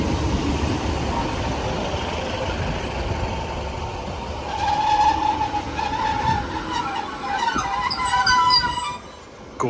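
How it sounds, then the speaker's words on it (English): EMR Regional Class 156 diesel train braking as it pulls into Belper station, a steady rumble of wheels on rail with squealing brake tones rising in the second half, close and loud, fading at the end. "Gorgeous sound of those brakes."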